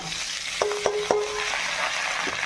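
Onions frying lightly in oil give a steady soft sizzle, with three quick, sharp utensil taps against the pan close together near the start and no voices.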